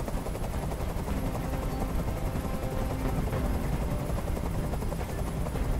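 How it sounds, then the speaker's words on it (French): A helicopter in the video game Detroit: Become Human gives a loud, steady rotor drone that fills the whole stretch without a break, with no speech over it. "Je peux plus supporter ce bruit. Fais dégager cet hélicoptère"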